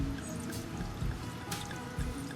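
Wine splashes and trickles into a half-cup measure in an outdoor kitchen, a soft continuous liquid pour with small drips and clinks, fairly quiet and with no voices.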